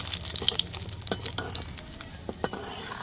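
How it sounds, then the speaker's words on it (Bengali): Cashew nuts frying lightly in oil and ghee, a close bright sizzle with quick repeated stirring clicks and scrapes throughout. "কয়েকটা কাজু বাদাম নিয়ে নিয়েছি কাজু বাদামটাকে ভেজে নেব হালকা করে"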